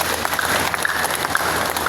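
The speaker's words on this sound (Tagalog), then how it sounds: "palakpak ato Ginoo" A crowd claps together in a church service, a dense even patter of applause held at a moderate level throughout.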